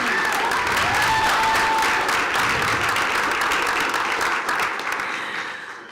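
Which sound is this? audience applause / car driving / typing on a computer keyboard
audience applause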